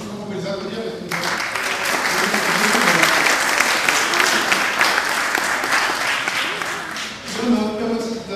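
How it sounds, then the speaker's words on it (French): An audience at a neighbourhood contract launch meeting in Châtelaine bursts into steady applause for about six seconds; a voice speaks briefly before the clapping begins and again as it fades. "Vous pouvez les applaudir"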